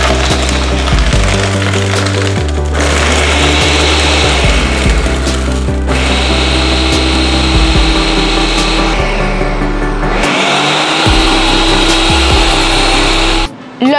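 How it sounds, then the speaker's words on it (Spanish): A blender whirs loudly blending pineapple and coconut cream for piña colada, a harsh grinding motor roar that shifts pitch as contents churn, continuous and close, cutting off at the end. "Ahora voy a licuar. Prendemos y licuamos."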